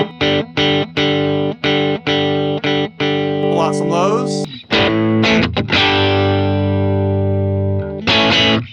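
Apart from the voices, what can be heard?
electric guitar through distortion, crunchy amp tone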